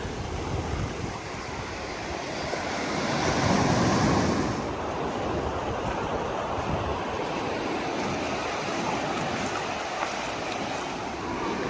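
Soft, distant waves wash onto the shore at Daytona Beach, Florida, with one fuller swell rolling in partway through and light wind around it.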